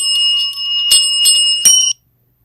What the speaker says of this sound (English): that was cats in hats ringing bells